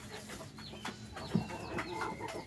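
A rooster pecks at feed in a farmyard, giving soft scattered clucks and short calls over faint background chatter and bird noise, fairly quiet and close.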